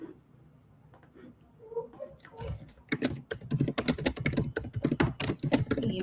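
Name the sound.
typing on a computer keyboard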